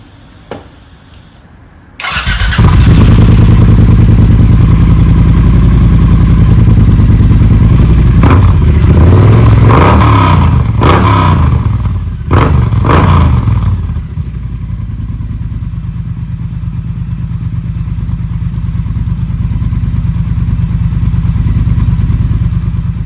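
A neglected Triumph motorcycle engine cranks and catches after a short quiet pause, then revs hard several times in sharp bursts before settling into a loud, steady idle, close by with no talk.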